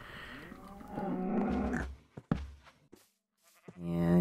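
A cow lows in the video game Minecraft, a drawn-out, close moo followed after a short pause by a second, deeper one, clear and without talk.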